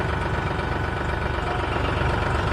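Tractor engines idle steadily at a farmers' tractor rally near Mansarovar metro station in Jaipur, a loud continuous low rumble with knocking vibration and no break.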